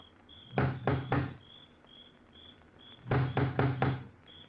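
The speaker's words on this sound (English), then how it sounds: "He looks about uneasily, then lifts the huge knocker on the door." A huge, heavy knocker struck against a front door at the top of wide stone steps, two groups of three and four loud, hollow thuds, with a faint steady insect chirping in the background.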